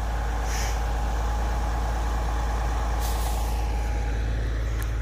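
A concrete pump truck's diesel engine runs steadily at a job site, a loud, constant low rumble with a faint hiss and brief higher clicks over it, no voices.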